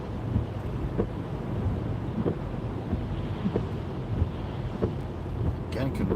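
Wind gusts around a car driving in heavy rain, a low, rumbling rush of moderate loudness with faint periodic thumps, steady for several seconds without talk.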